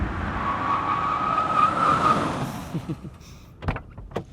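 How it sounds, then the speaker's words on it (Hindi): A car pulls to a halt during a romantic film scene, its steady road and engine noise with a thin squealing tone fading out, followed by a few sharp clunks nearby. "गाड़ी रोको यार।"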